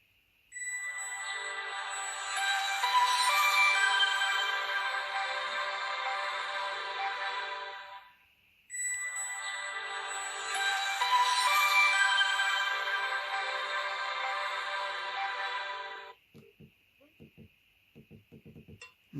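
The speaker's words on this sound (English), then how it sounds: "I will ring it again, just to show you it ringing." A TKEXUN G9000 dual-SIM Chinese flip phone rings close by, with two long, bright electronic ringtone bursts separated by a brief gap, followed by a few soft clicks from handling the handset.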